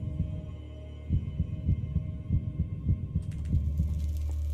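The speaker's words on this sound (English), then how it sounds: "I don't think heartbeat goes down." A low, throbbing heartbeat in the Minecraft map Decked Out 2 pulses in an even rhythm over a droning hum, growing slightly louder toward the end, with no talk.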